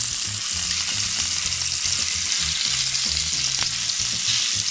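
Ibaïona pork pieces sear in a hot pan with a steady, loud, dense sizzle and occasional pops, with no voices over it.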